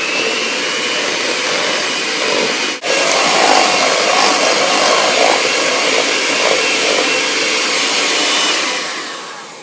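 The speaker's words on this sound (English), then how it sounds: "this mixer does not have the slowest speed, so it's pretty fast on the lowest speed" An electric hand mixer whirs steadily at a fast lowest speed through cake batter with cocoa, a loud close buzzing drone with a brief dip before it runs on and tapers off, no voices.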